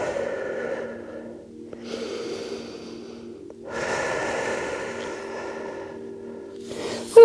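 A person breathes slowly and audibly while stretching on an exercise mat with head lowered and arms reaching forward, long soft inhales and exhales at close range, with a brief louder sound at the very end.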